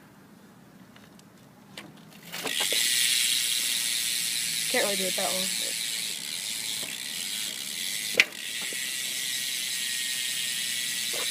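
A stock hub on a 2011 Fit Bike Co. Inman 1 BMX bike clicks in a steady, fairly quiet ratcheting buzz as the wheel spins, with a person talking briefly over it and one sharp knock near the end.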